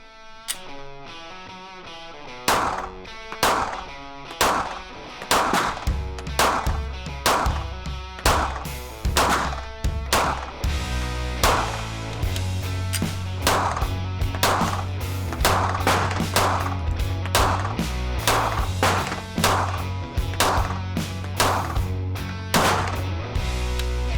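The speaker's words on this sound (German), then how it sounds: "Mit beiden Waffen war ich auf dem Schießstand, schaut es euch an." Single Mossberg MC2c pistol gunshots crack out one after another at a shooting range, sharp and loud, in a steady series of roughly twenty shots with short pauses.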